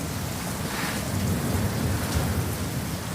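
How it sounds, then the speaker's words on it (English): Heavy rain pours steadily while thunder rumbles low and continuously through a thunderstorm, loud and close with no voices. "the hideous thunderstorm and rain"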